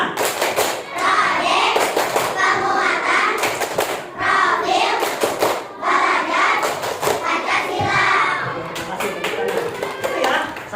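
Students in a classroom perform a rhythmic clapping chant, with bursts of sharp, patterned hand claps alternating with voices chanting together in a group.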